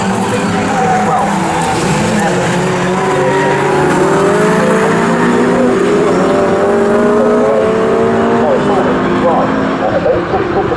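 Group 1 touring cars, among them a Ford Escort and a BMW, race at Snetterton, their engines roaring and rising and falling in pitch as they pass, with a commentator talking over the noise.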